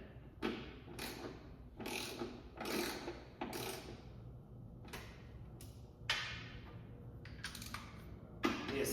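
Fasteners on a 2026 Yeti One bike being tightened, heard as a series of close metallic ratchet clicks in short repeated bursts, with some clunks between them and no talk.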